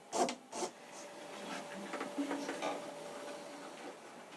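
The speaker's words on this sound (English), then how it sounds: "He repeats the filing process for all 4 pegs." Hand filing of a wooden violin peg at a luthier's bench, giving soft, close rasping strokes in a loose rhythm with a faint steady hum underneath and no talk.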